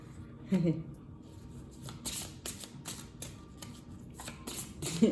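Tarot cards are handled, shuffled and drawn, giving soft papery riffles and light slaps in short bursts, close and fairly quiet, with a voice talking over them.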